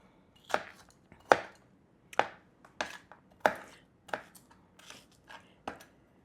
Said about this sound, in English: I am going to go ahead and cut my Vidalia onion that I got at the produce stand